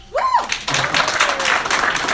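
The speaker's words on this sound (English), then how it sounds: "Does anyone here not have children? Round of applause." Comedy club audience breaks into a short burst of applause after a brief vocal sound, the clapping rising quickly and staying dense and close for about two seconds.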